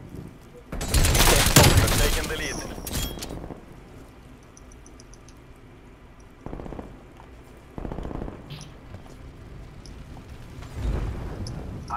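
Bursts of automatic gunfire from Call of Duty Cold War, hardcore team deathmatch on the Raid map. A loud sustained volley comes first, then shorter, quieter bursts, with people talking over the action.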